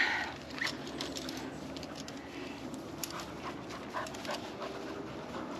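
A dog panting close by inside a tent, quick steady breaths repeating throughout, with faint bird calls in the background.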